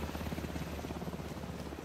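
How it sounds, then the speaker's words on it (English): Helicopter from the video game Alan Wake 2, its rotor beating in a steady low chop that holds even and fairly loud throughout, with no voices over it. "Oh, thank God they have a helicopter."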